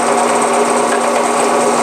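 A drill with a brad point bit bores into a guitar peghead, a loud, steady high-pitched whine held without pause, close and alone.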